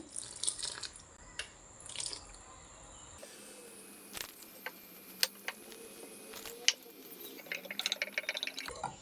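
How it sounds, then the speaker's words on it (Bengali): Water poured little by little into gram flour (besan) batter, a quiet trickling and dripping with small splashes and light clinks, close up and without speech. "এখন অল্প অল্প পানি দিয়ে বেসনের ডোটাকে ভালো করে রেডি করে নিতে হবে"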